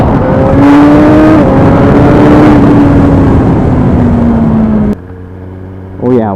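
A 2017 Suzuki GSX-R1000R motorcycle engine roars loud and close under sustained throttle with the pitch slowly dropping, then settles to a lower idle before a brief rev at the end, with wind noise throughout.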